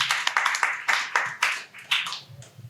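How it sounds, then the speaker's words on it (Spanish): A small group claps for the new skipper of the boat Porteño, a loose, uneven run of sharp hand claps close by, with no talking over it. "Yo le voy a pedir un aplauso para aquí el nuevo patrón de Porteño."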